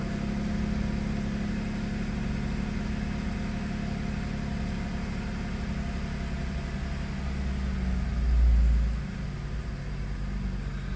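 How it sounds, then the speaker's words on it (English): Car engine idling with the hood open, a low, even rumble close by that swells briefly near the end before settling back. "I just let it run, let that idle kind of come down"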